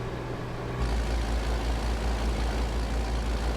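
Deep, steady engine drone from an American big rig truck in a trucking video game, a loud low rumble that swells in after a short moment and holds evenly to the end.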